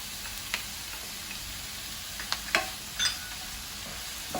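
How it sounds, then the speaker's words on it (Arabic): Minced meat kofta sizzling in a pan with onion and chermoula, a steady low frying hiss broken by a few brief scrapes and clicks of stirring. "نحرك كلشي ونخليهم حتى الكفته ديالي تطلق الماء ديالها"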